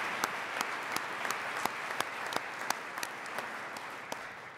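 An audience at the Prix du Québec 2016 awards ceremony applauds with steady, even clapping, heard from a distance and fairly soft, and a few sharper individual claps stand out.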